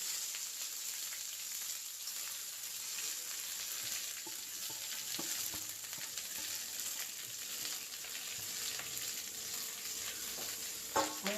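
Bean leaves fry in a hot pan after popping mustard seeds, a steady, close hiss of sizzling oil that holds at an even level throughout, with a few faint stirring knocks near the end.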